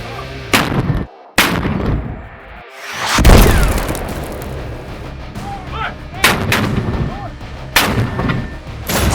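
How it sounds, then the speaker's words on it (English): Booming artillery fire effects in a 1:18 scale action figure war game, several heavy blasts with rumbling decay and scattered impacts, loud and close with no talking. "Then, Lieutenant Lee calls for a fire mission for 2 teams"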